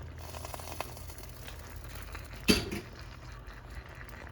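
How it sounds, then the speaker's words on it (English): Dry pasta drops into a cooking pot with one sharp clatter midway through, set against a quiet kitchen background of faint bubbling. "let's just put our pasta in there"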